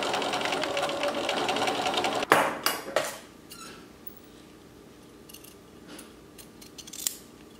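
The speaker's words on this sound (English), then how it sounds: "So I'm then able to sew the end of the binding here together and create a seam." A domestic sewing machine runs in a fast, steady whir while stitching a denim binding seam, then stops, followed by several quiet clicks and handling sounds close by.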